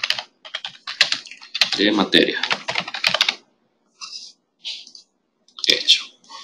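Someone types a presentation name on a computer keyboard: close, rapid bursts of key clicks with short pauses, and a voice speaks briefly between them.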